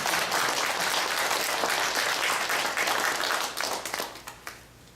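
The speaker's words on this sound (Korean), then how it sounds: "박수 한번 쳐주세요" An audience at a Korean Won Buddhist temple gathering breaks into applause, a dense, steady wash of many clapping hands that thins out into a few scattered claps at the end.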